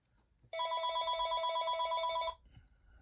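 A single telephone ring, a steady electronic warbling tone lasting about two seconds in a quiet room, then stopping.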